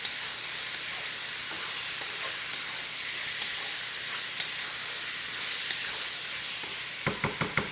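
White parts of green onions stir-frying in a hot pan for a cashew chicken stir fry, with a loud steady close sizzle and hiss and a few sharp clacks of stirring near the end.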